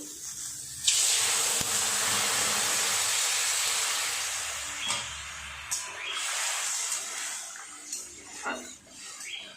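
Water poured into a pan of lightly fried raw mango pieces for chutney, bursting into a loud, steady hiss that fades slowly over several seconds with a few clinks of utensils.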